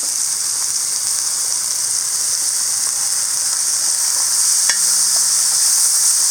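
Sliced big onions and a few green chillies roasting in hot oil in a pan in a village kitchen, a steady bright sizzle and hiss running throughout, with a brief clink partway through and no talk.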